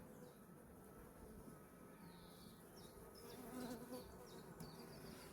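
Yellow honey bees buzz steadily and faintly at a hive in an isolated forest apiary, a dense drone of many insects with occasional closer passes, no voices.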